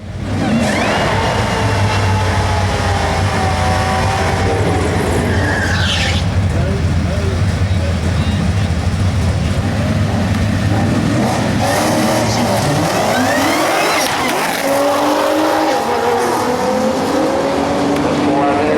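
Ford GT500 race car on a track, engine loud and close throughout, revving and accelerating with shifts and passes, tires squealing at times, with people talking over it.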